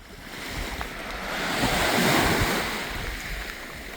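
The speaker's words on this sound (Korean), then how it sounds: "이작분교를 지나 계속 바닷가를 따라 걸을 수 있습니다." Sea waves wash onto a beach beside a coastal walking trail on a Korean West Sea island, a broad, rushing surge that swells louder and then recedes, with some wind noise and no voices.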